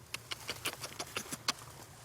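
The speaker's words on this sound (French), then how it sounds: "Voilà, et la pluie qui arrive." Scattered soft patters from the first raindrops falling outdoors at harvest time, light and irregular, quiet and close, with no talking.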